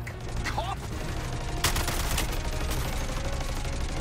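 Rapid bursts of gunfire from the video game Suicide Squad Kill the Justice League during a boss fight, dense crackling shots over a steady low rumble, loud and continuous.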